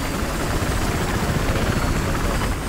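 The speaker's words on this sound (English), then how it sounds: "Enemy helicopter's up. Transport chopper!" A transport helicopter in the Battlefield Hardline video game roars close and loud, its dense, steady rotor and engine noise filling the whole stretch without pause.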